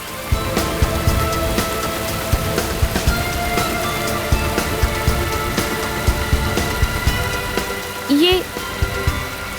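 Heavy rain pours steadily in a dense, loud hiss of drops striking surfaces, continuous throughout, with a brief rising tone near the end.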